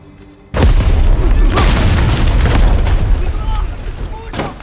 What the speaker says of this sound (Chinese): 发生大爆炸了！